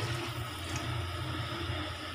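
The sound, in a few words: pouring half a litre of water into aloo biryani pot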